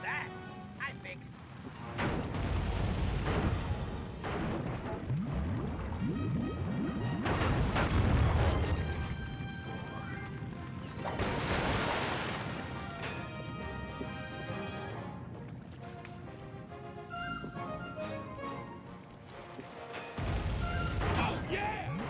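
Ship cannons fire and explode repeatedly during a naval fight in Sly 3, heavy booms and crashes coming in several bursts over a noisy game soundscape, with a voice talking throughout.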